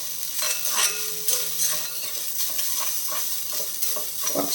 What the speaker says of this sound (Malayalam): കുറച്ച് കറിവേപ്പില ഇട്ട് കൊടുക്കാം എന്നിട്ട് വറക്കാം